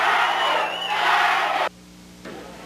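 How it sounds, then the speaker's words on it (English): A wrestling arena crowd at the Northtown Event Center roars loudly and continuously in a dense wash of yelling and cheering, then cuts off abruptly, leaving a quiet gap before a fainter crowd murmur returns. "it infuriates this crowd at Northtown Event Center"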